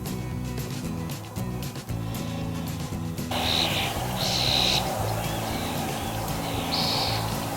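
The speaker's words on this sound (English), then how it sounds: "You only hear birds chirping." Birds chirp in short bright bursts around a quiet early-morning campsite at Pinnacles National Park, the calls faint against a steady background hum.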